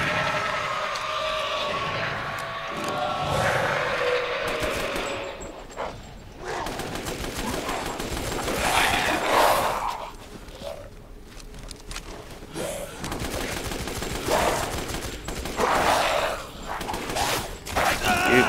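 Bursts of gunfire in the video game Resident Evil Village crack and rattle amid a busy, noisy game soundscape, with a few louder shots standing out over continuous background clamor.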